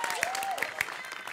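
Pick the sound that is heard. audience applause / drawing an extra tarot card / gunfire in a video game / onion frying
audience applause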